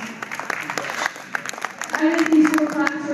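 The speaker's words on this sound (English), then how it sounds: "Let's give our lightweight division exhibitors a round of applause." An audience at a 4-H spring goat show claps for lightweight division exhibitors, a short burst of moderate applause mixed with crowd murmur and a voice over it.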